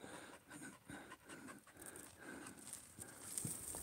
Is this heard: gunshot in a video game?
no